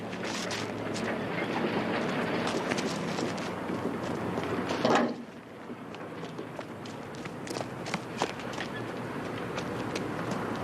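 A train rumbles and clatters along at a steady pace, with sharp rhythmic clacks, a brief hiss midway, then continued rattling.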